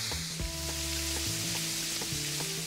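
Steak sizzling steadily in a hot pan just after being turned, a continuous close hiss with faint underlying hum and a few soft clicks, no voices.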